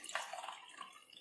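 Water is poured into a simmering salna gravy, a short, faint trickle and splash at close range with no voices.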